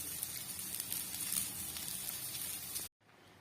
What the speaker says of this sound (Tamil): பாருங்க பாருங்க வெங்காயம், மிளகாய், ரம்பையில் எல்லாம் வதக்கப்படுகிறது.